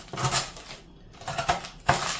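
A knife saws through a frozen block of food still sealed in its plastic bag, giving a few sharp crackling, clattering crunches and scrapes close by, with a short pause midway and a harder crack near the end.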